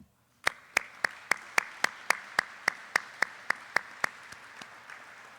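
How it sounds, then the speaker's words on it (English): Single pair of hands clapping steadily at an army aviation NCO academy graduation ceremony, about fifteen sharp, evenly spaced claps, fairly close and alone against a quiet hall. "Please join me in a round of applause for them."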